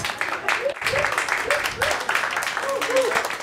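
An audience at the Hawaii International Film Festival claps in welcome, a moderate scattered applause that mixes with a voice speaking over it.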